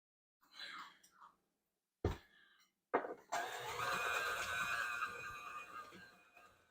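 A mixer blends peanut butter bar batter, a steady, fairly loud whirring drone that starts about halfway through and runs to the end, after a few soft murmurs and brief knocks.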